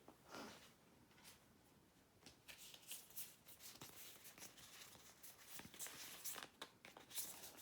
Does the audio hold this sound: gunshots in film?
no